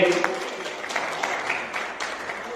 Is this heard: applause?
yes